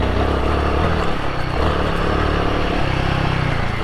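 Royal Enfield Himalayan 450 motorcycle pulling away hard in second gear from nearly a standstill on a rocky off-road trail, a loud, steady close-up engine drone with clatter and wind noise throughout.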